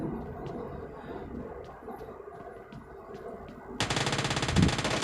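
Rapid automatic gunfire bursts out loud and close in PUBG Mobile Lite gameplay after a stretch of quieter in-game ambience with faint scattered clicks.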